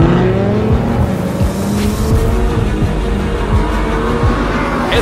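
Hot Wheels diecast toy cars racing down a track, a steady loud rolling rumble with repeated short clicks and rattles as the cars pass over track joints, continuing without pause.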